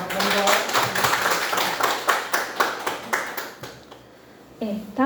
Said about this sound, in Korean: 한 번 더 박수 부탁드립니다.